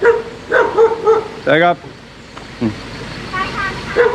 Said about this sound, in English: That's my dog is barking.